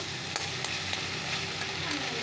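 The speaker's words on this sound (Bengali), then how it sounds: "মশলাটা চলো ভাজা করে নিই" Lightly spiced masala for a fish curry sizzles continuously in a hot pan, with a few sharp stirring clicks of a spoon over the steady hiss and no voices.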